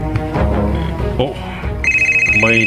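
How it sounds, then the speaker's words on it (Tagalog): Telephone rings with an incoming call, a repeated electronic ringtone chirping near and clear in the last second after people talk over other sounds. "may nanawag ka, Sofia."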